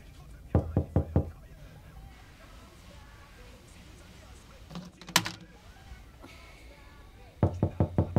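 Someone raps on a door in quick bursts of four knocks, once at the start and again near the end, with a louder clatter in between and a quiet room otherwise.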